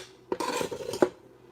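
A spoon knocks and scrapes inside a pot as chicken spaghetti ingredients are stirred over low heat, with two sharp clinks framing a short, soft scraping pass.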